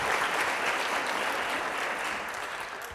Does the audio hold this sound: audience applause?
yes